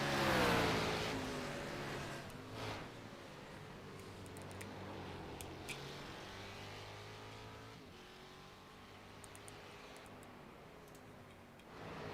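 Race cars lap Watkins Glen in a GT racing video game. A steady engine drone with shifting pitch holds throughout, fairly faint, with a louder pass at the start and a few light ticks, and no talk.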